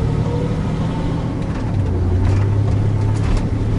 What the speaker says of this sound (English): This is Madison work traffic.